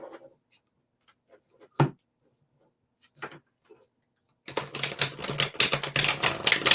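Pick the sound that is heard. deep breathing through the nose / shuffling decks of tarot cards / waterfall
shuffling decks of tarot cards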